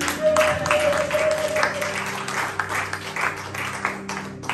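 A church congregation at a service breaks into applause, a dense wash of hand clapping over a steady held tone, rising and thinning in waves over several seconds.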